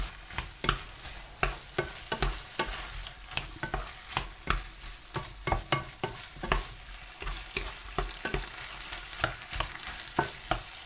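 Mushrooms frying in a pan, with steady sizzling and repeated sharp scraping and stirring strokes every second or so, close up and loud, no talk.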